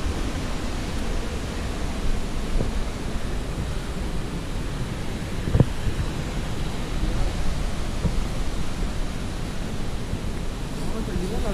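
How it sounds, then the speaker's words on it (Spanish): Waterfall at an abandoned hydroelectric plant from 1896, a steady broadband roar that fills the space without letting up, with a brief knock partway through. "Si alcanzan a oír la fuerza de la cascada"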